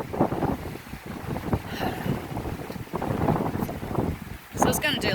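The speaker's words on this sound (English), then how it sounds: "Wait for the wind." Wind gusting outdoors and buffeting the microphone as rough low rumbles that swell and ease, with a person talking over it intermittently.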